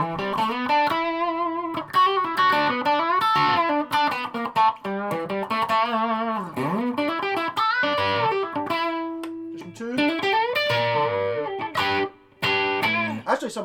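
An electric guitar with P90 pickups plays through the amp's second channel with a reverb pedal, slightly overdriven, with ringing chords and single-note lines filling the whole passage.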